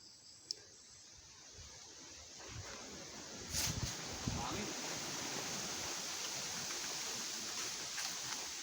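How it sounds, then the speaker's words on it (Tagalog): Steady wind blows outdoors as a continuous broadband rush that fills the clip, with a few brief knocks and thumps near the middle and a faint voice under it. "Mahangin guys, mahangin."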